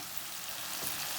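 Tomatoes cooking in a pan, giving a faint, even hiss of frying with no talking.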